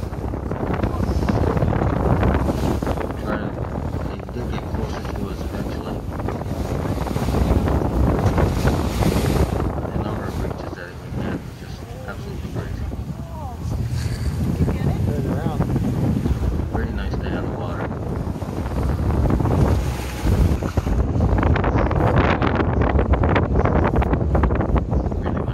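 Strong wind buffets the microphone with a constant roar, mixed with the wash of waves and water around a moving whale watching boat off Newfoundland; faint voices underneath.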